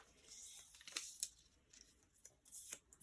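Scissors snip masking tape into pieces for sticking on a painted flower pot, a few quiet, crisp cuts and rustles.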